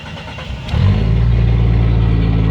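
A 1997 Jeep Cherokee engine cranks briefly, catches and fires up, settling into a loud, steady idle with a low rumbling drone close by.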